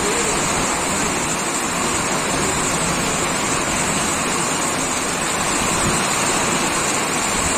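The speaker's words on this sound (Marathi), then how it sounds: "जोरात पाऊस चालू झालाय" Heavy rain pours down steadily, a dense, unbroken hiss with no other sounds standing out.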